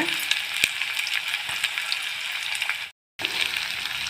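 Chopped onion sautéing in a pan for onion-leaf stir-fry, a steady crackling sizzle throughout, broken by a brief total silence near the end before the frying resumes.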